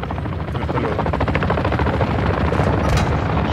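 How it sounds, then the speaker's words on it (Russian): Helicopter rotor chopping loudly and steadily close by, with rapid bursts of gunfire layered through it, all at a constant high level with no talking. "Вертолет."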